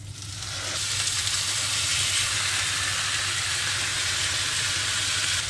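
Chicken skin sears skin-down in a very hot pan, a loud, steady broadband sizzle that swells over the first second and then holds unbroken, with a low hum running beneath.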